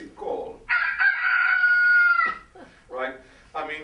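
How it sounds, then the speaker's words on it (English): A rooster crows one long, loud call that rises and holds, followed by shorter clucking or vocal bursts; the call sounds close and stands clear of any other noise. "When a rooster crows, it's a very impressive call"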